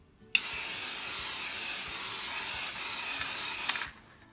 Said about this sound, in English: So now we can start spraying on step two.